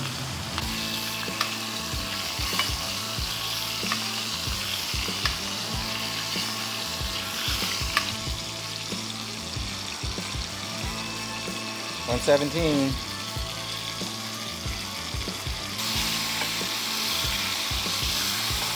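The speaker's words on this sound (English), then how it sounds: "If you like the sound of sizzling steaks," A steak sizzles steadily in a hot pan, a loud crackling hiss with occasional pops and scrapes, while a person speaks briefly over it.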